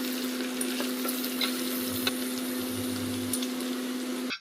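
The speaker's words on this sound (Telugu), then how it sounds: "2 ఆనియన్స్, 2 మిర్చి వేసుకొని ఫ్రై చేసుకోండి" Two onions and two green chillies fry in oil with bay leaf, cinnamon and peppercorns for a pomfret fish dum biryani, giving a continuous close sizzle over a steady hum before cutting off.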